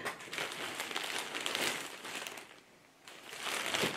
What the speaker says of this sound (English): So I'm going to only cut one side of this